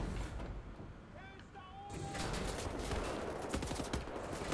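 Gunfire in the video game Wolfenstein: The New Order, loud and dense bursts of shots that blend into a continuous roar of battle noise with mechanical clatter, no talk over it.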